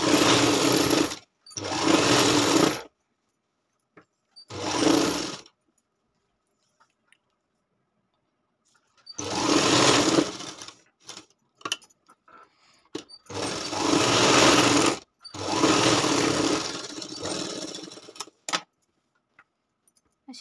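Sewing machine stitching the seams of a lined katori blouse, in several short bursts of rapid, close, loud stitching with silent pauses and small handling clicks between them.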